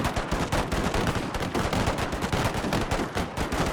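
Mitrailleuse volley guns in the Carlist War game Total Fots fire a dense, continuous rattle of rapid gunshots, loud and sustained throughout with no pauses.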